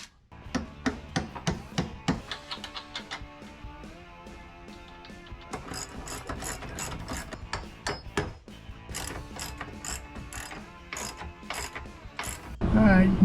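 Ratchet cranking carriage bolts through a deck railing post's flanges, rapid loud clicking bursts in uneven runs over a faint hum, with a short pause midway and a louder knock at the end.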